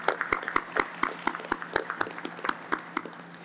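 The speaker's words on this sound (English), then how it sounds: "give them a round of applause for their dedication to this conference" Sparse applause from a small audience at a 2021 procurement conference, with separate claps loosely spaced over a faint steady hum.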